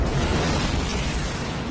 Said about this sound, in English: watch this explosion and then answer this for me